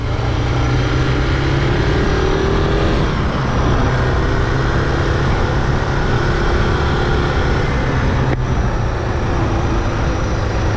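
A Suzuki DR650 motorcycle is ridden at speed, heard as a loud, continuous engine drone mixed with heavy wind rush throughout, with one brief shift in tone near the end.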